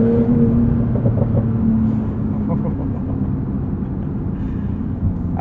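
A 2021 Porsche 911 Turbo S flat-six engine drones steadily from inside the cabin, a low, even exhaust rumble at cruising pace with no sharp revving.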